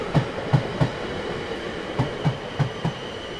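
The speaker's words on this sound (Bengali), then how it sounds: "ট্রেনটা ঝনঝন শব্দ করে স্টেশন ছেড়ে মিলিয়ে গেল অন্ধকারের মধ্যে।" A train pulls away from a station in an animated horror movie, its wheels giving a steady rhythmic clickety-clack of paired thumps over a low rumbling rattle, close and without talk.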